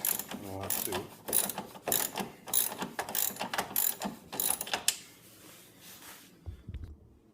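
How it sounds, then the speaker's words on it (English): A ratchet wrench clicks in quick repeated bursts as it loosens a bolt on the rear skid of a Yamaha snowmobile. The clicking is close and fairly quiet, then it stops and a faint thump follows. "for the last and final bolt you need to loosen"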